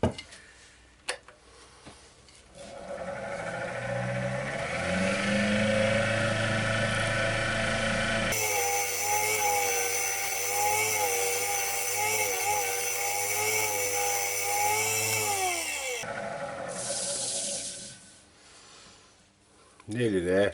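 Woodturning lathe hollowing a wooden pot pourri bowl, a long steady mechanical whir with scraping tool noise that rises and shifts in pitch midway, fairly loud and close, with a voice talking at the start and end.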